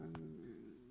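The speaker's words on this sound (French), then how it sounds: "ça c'est le chat" A domestic cat gives a short, quiet low vocalisation with a growling, purring tone, close and brief.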